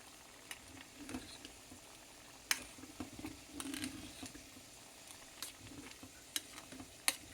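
Ingredients for dal khichdi fry in a pan with a faint, steady sizzle, broken by occasional soft clicks and scrapes of a stirring spoon, quiet and close.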